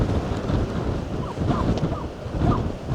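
Strong gusting wind buffets a Modified Taiji 2 trekking-pole tent, a continuous loud roar rising and falling in waves, with fabric flapping through the rush; no speech.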